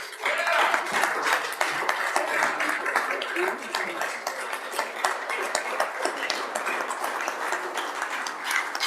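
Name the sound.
applause in the Senate chamber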